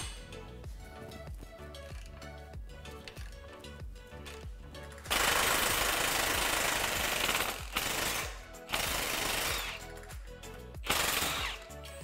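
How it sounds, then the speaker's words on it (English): An impact wrench with a 21mm socket hammers loose the lower track bar bolt on a Jeep Gladiator, rapid rattling bursts in close succession with short pauses between them. "Using a 21mm socket, remove the lower track bar bolt."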